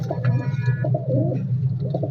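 A golden pigeon with red eyes coos close by at the Shahdara pigeon market in Lahore, giving low, repeated throaty coos amid faint market background noise.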